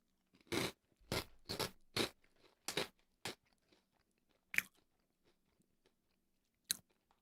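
Crunchy cheese Cheetos being eaten up close, with a burst of sharp crunches in quick succession followed by fainter scattered chews and one last loud crunch, no talking.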